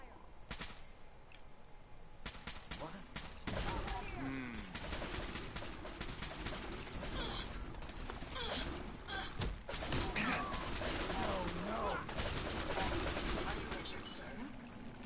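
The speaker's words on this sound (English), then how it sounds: "Give them some covering fire." Covering gunfire in the video game Fallout 4, with rapid repeated shots crackling across a busy battle scene, mixed with shouting voices and other game sounds at fairly low level.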